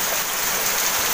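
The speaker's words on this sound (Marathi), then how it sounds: "आणि पाऊस पण बघा किती पाऊस पडतोय." Heavy monsoon rain pours steadily outdoors, a dense even hiss with no breaks or voices.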